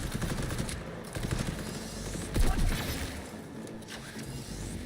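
Rapid gunfire from the video game Cyberpunk 2077, a dense run of shots with a louder burst near the middle, steady and close with no talk over it.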